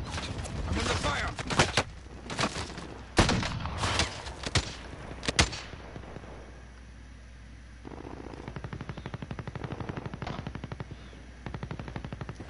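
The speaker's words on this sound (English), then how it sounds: "I'm under fire!" Gunfire in the video game Call of Duty Warzone: close, loud bursts of single shots, then a long steady stretch of rapid automatic fire, with faint speech underneath.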